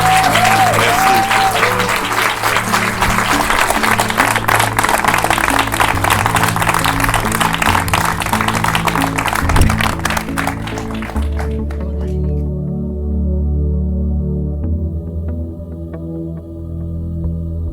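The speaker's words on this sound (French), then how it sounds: "j'aimerais ça qu'on lui donne une bonne main d'applaudissement" An audience gives a long, loud round of applause, dense clapping lasting about eleven seconds before fading, as low sustained music continues underneath.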